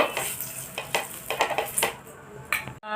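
Oil is brushed onto a hot griddle on a gas flame for palm-batter saruchakli pitha, giving a close, loud sizzle broken by quick scraping brush strokes.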